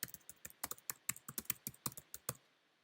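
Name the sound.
typing on a computer keyboard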